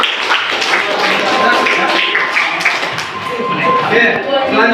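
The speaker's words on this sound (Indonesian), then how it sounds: "Oke, dengan tepuk tangan untuk kelompok terakhir." A classroom of students applauds a group that has just finished a presentation, a loud, sustained wash of many hands clapping close by with voices mixed in.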